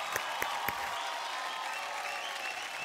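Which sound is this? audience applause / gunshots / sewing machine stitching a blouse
audience applause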